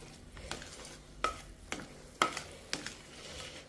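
A spoon scrapes through a ghee and sugar mixture in a pan, about six distinct strokes spaced roughly half a second apart over a faint low sizzle, close and fairly quiet.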